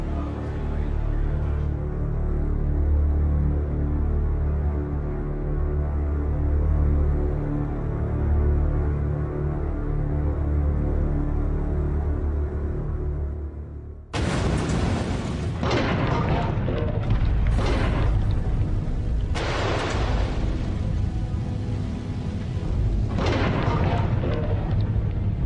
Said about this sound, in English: Wyatt retreated to a safe distance to watch the explosion on a monitor